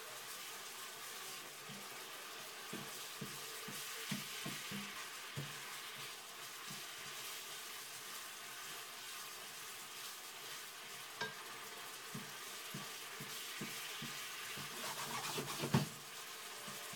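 Chicken cooks in Coca-Cola in a pan over high heat, a steady foamy sizzle under frequent scraping strokes as it is stirred constantly, close and fairly quiet throughout.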